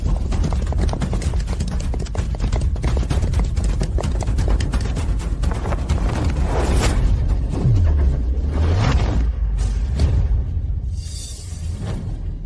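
Horse hooves clip-clop in a steady rapid rhythm, loud and continuous, with whooshing swells and a low boom mixed into a dramatic scene.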